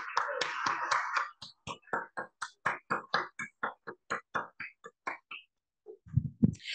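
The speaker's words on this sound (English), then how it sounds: "if you could raise your hands, we'd just love to give you a big round of applause." A small audience at a Café Sci science talk claps in a quick, even rhythm, with each clap crisp and distinct. The clapping runs for several seconds, stops briefly, and a low thump follows.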